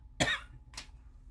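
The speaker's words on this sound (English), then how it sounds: "Yes, I still have a lingering cough." Two separate coughs, the first harsh and louder, the second shorter and fainter, with a low steady hum underneath.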